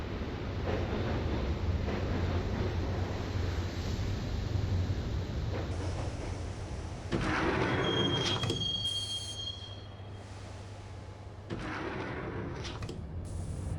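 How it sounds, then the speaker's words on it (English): A subway train ride in the Max Payne game, heading to Roscoe Street Station: steady low rumble of wheels on rails with a sustained high metallic wheel squeal midway, loud and continuous throughout. "the train doors had already shut behind me, and I was in for the ride"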